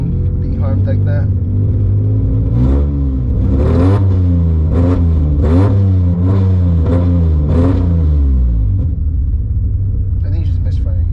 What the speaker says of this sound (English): And the way I'm revving it, it's just light taps.